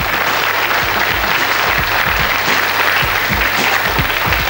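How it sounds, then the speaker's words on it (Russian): A studio audience claps at the Russian TV game show Pole Chudes (Field of Miracles), 2003: dense, loud, continuous applause with no pauses, no voices on top. "Эти аплодисменты вам."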